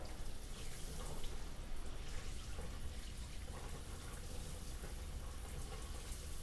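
Shower water runs steadily for several seconds, a continuous broad hiss and splash as leftover coffee is rinsed away, with no talking over it.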